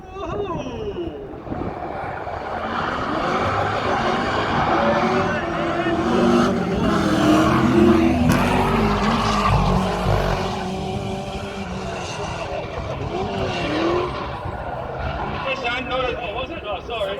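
A Holden Commodore V8 rally car drifts, its engine roaring and revving loudly throughout with rising and falling pitch, while people talk and cheer over it.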